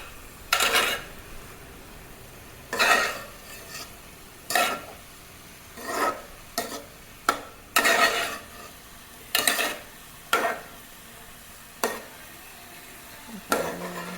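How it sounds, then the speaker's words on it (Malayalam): Grated coconut being stirred into a green bean stir-fry in a pan: spaced, separate scraping strokes of a spoon about every second or two, near and clear, with quiet gaps between and a faint sizzle, no talking. "എല്ലാം കൂടി ഒന്ന് മിക്സ് ചെയ്തെടുക്കുക."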